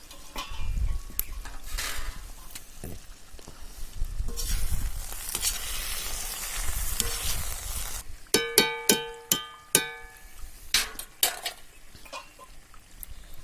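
Country chicken fry with masala sizzles in a pan on a wood stove, a steady crackling hiss first, then a run of sharp metallic clangs and scrapes as the pan is stirred, heard close with no talking.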